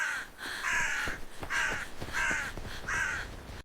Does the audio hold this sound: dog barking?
no